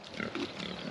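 Piglets on a homestead, soft close grunts and snuffling oinks, fairly quiet and continuous.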